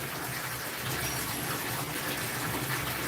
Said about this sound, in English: I fill it up with scalding hot water